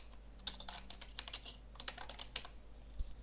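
A folder name being typed on a computer keyboard, a rapid run of light clicking keystrokes in quick irregular bursts, close and quiet over a low steady hum, with no voices.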